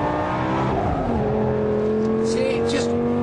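Lamborghini Gallardo SE in second gear pulling hard under full throttle, a loud, steady engine note climbing in pitch from close by, with tire noise flaring near the end.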